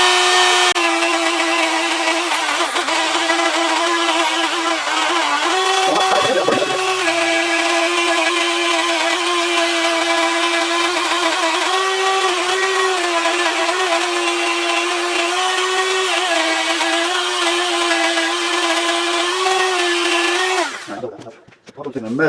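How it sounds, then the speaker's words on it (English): A loud power tool whines continuously for about twenty seconds, sanding epoxy with a sandpaper disc. The pitch holds mostly steady with a brief dip partway through as the load changes, then the tool stops abruptly near the end. "Let's try one of these sandpaper discs."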